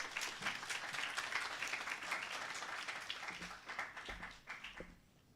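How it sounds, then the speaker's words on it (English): Audience applause at an innovation presentation, a dense, even wash of many hands clapping that holds steady and then thins out toward the end. "Please give a round of applause."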